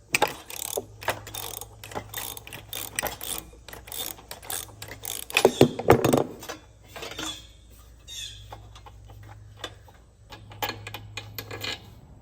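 A ratchet socket wrench unscrewing the spark plug of a push mower, rapid clicking ratchet bursts in repeated runs with metallic clanks, close and loud.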